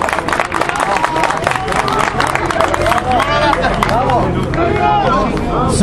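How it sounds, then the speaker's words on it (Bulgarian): Audience applause and cheering for two boxers at the end of a prison boxing match in Bulgaria, a dense, steady roar of clapping and crowd noise with voices shouting through it for the whole stretch. "Аплодисменти за двамата боксьори!"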